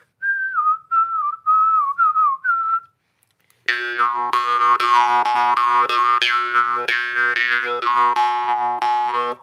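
A brief whistled phrase, a pause, then a loud twanging jaw harp with a buzzing drone whose overtones rise and fall as the tongue moves.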